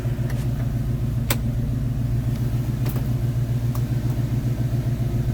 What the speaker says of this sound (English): Blower motor works.